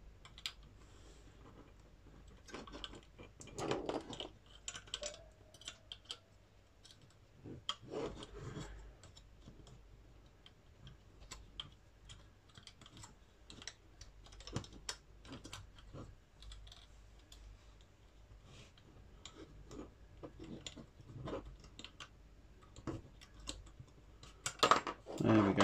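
Small plastic and metal parts of a Fanhome Transformers Optimus Prime model kit being screwed down by hand: faint scraping, clicking and rasping handling noises, intermittent and close, with no talking.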